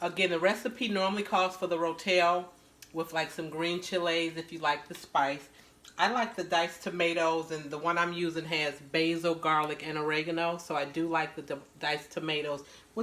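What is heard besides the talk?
No everyday noises stand out.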